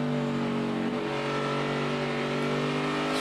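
Onboard audio from Dale Earnhardt Jr.'s Chevy NASCAR Sprint Cup stock car racing at Richmond, a loud steady engine drone with strong sustained harmonics and a slight shift in pitch midway, continuous with no talk.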